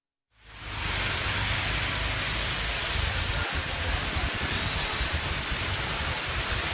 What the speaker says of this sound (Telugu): ఇటు నెల్లూరు జిల్లాలో ఎడతెరిపి లేని వర్షం కురుస్తుంది.